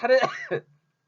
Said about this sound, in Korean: 아유 자꾸 왜 이렇게 기침이 나오니까